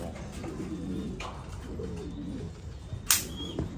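Soft, low coos from American king pigeons murmur close by with faint rustling, then a brief flutter of wings near the end.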